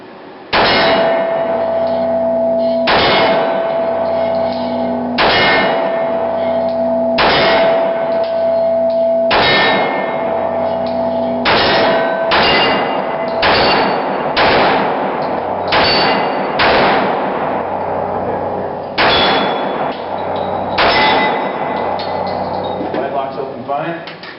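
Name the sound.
Glock 41 .45 ACP pistol shots hitting steel target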